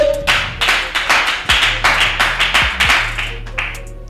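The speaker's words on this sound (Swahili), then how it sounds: "Makofi kwa ajili ya Feno Boy" Rhythmic group clapping greets Feno Boy at a TV interview, a steady run of claps building and fading across several seconds, with low background hum and no talk.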